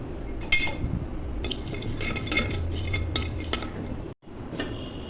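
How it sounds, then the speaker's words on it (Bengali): Mustard seeds dry-roasting in a lightly heated wok for mango pickle, a soft rustling hiss with repeated metallic stirring scrapes and clinks, close, with a brief silent break near the end. "কড়াইটা হালকা গরম হয়ে গেছে, এখন সরিষাগুলো দিয়ে হালকা ভেজে নিব।"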